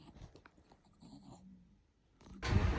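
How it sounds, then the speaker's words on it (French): A pet dog snuffles and pants close by with soft breathy snorts and rustling, ending in a louder burst of close handling noise. "petit moment avec mon chien"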